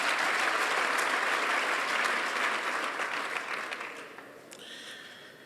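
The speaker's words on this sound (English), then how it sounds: "I think the two of them need a serious round of applause" An audience at a Nelson Mandela Children's Hospital event breaks into steady, dense applause that holds for several seconds and then thins and fades, with no voices over it.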